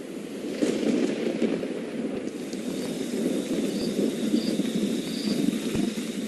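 Thunder rumbling over rolling hills and grassy plains in Rwanda at the start of the rainy season, a low continuous roll that swells and fades with rain-like hiss beneath, steady and moderately loud.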